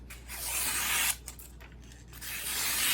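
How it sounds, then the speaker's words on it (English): An Enso SG2 kiritsuke knife, after two years of use without sharpening, push-cuts through newsprint with a close, smooth, steady hiss of slicing paper, briefly pausing midway before the cut resumes. "You can hear how smooth that is just with a push cut."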